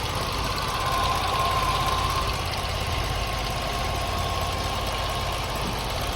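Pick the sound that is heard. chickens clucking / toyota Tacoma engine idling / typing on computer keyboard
toyota Tacoma engine idling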